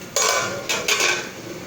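A metal lid goes onto a boiling pot of mutton paya: two or three close metallic clanks and clinks as it settles, over a steady background hiss.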